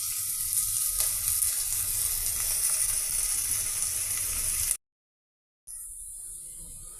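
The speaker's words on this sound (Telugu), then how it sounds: "ఆయిల్తో ఈ ఆనియన్ పీసెస్ని ఒక 2 నిమిషాలు ఫ్రై చేద్దామండి." Onion pieces fry in hot oil in a pan with a continuous bright sizzle and crackle. The sound is broken by a short silent gap, then the sizzling resumes.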